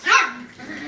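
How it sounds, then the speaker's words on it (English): Puppies bark in the background where people are playing with them: one sharp, fairly loud yip-like bark opens, followed by a softer, trailing whine or second bark. "sorry about the noise in the background, people playing with puppies."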